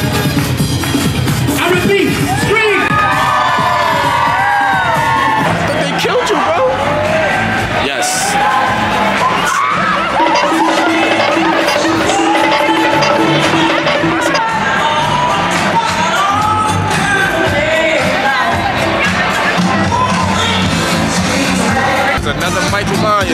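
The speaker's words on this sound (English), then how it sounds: "everybody scream. I repeat, scream!" Crowd screaming, whooping and cheering at a Las Vegas street show, a loud, dense roar of many voices with shouts rising throughout; a voice talks over the din at times.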